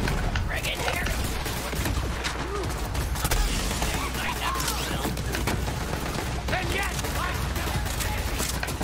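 Sustained gunfire from the Borderlands 3 video game continues through a busy, loud battle mix, with constant shot transients and rumbling booms and no clear gaps, and a voice faintly underneath.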